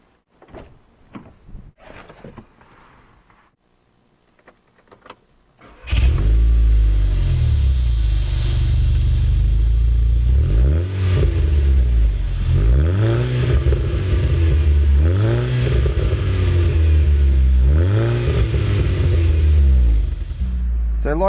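A 2015 Volkswagen Scirocco R with a 2-litre 4-cylinder engine revs hard after a few quiet seconds, giving a loud, bassy, sporty note that rises and falls in repeated sweeps close to the listener.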